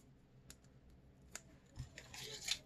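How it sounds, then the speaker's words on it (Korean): Scissors quietly cut double-sided tape during a paper-folding Christmas ornament craft, with a few faint clicks followed by a short burst of crinkly snipping at the end. "조금만 잘라서 이제 붙여줄 겁니다."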